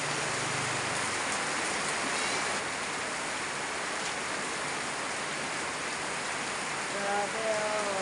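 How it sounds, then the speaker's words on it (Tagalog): Heavy rain pours down in a dense, steady hiss that fills the scene, and a faint voice rises briefly near the end. "Lakas ng ulan guys."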